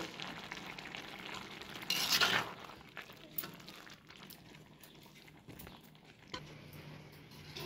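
Carrot halwa is stirred in a pan over a low flame, with soft scraping and sizzling, a louder burst of clatter early on, then quieter intermittent stirring noises.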